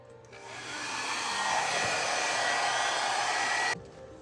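A hair dryer on its low setting whirs steadily, rising softly at the start and holding an even airy hum before cutting off abruptly near the end.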